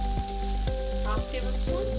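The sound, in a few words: salt and spices added to frying okra, sizzling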